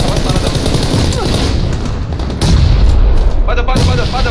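Dense, loud bursts of explosions and gunfire in a squad battle video game, booming blasts stacking close together with a heavier hit midway, under players' excited chatter.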